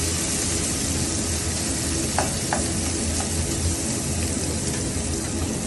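Chicken biryani masala with turmeric is stirred in a pressure cooker pot, a loud, steady frying sizzle with soft scraping and no talk.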